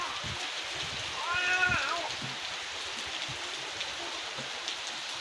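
Heavy monsoon rain pours steadily onto a village house roof, a dense continuous hiss throughout with a brief animal-like call rising near the middle.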